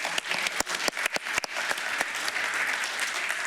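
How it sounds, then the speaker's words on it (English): Conference attendees applaud after a technical talk on VMware Cloud Foundation, starting with a few sharp, separate claps that swell into steady, fairly close group applause. "I think it's a big round of applause."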